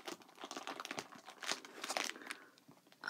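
Crinkly plastic packaging around mini yarn skeins being opened by hand, a close, busy run of crackling and rustling with sharp crinkle bursts that continues without pause.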